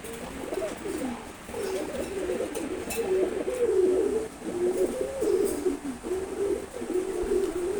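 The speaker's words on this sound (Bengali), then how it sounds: "কাকি জোড়া কবুতর" A pair of khaki pigeons, a two- to three-year-old male and female, coo steadily and close by, with soft overlapping rolling calls repeating throughout and no talking.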